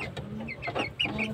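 Chickens cluck softly in a farmyard, a few short, close calls over low background noise with no talk.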